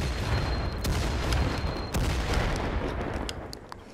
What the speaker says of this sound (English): Oh shit, there's a grenade.